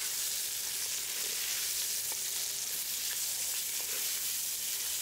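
Chopped onions frying in oil with curry leaves and green chillies for an Andhra-style prawn fry, a steady close hiss of sizzling broken by a few soft stirring clicks, with no talk.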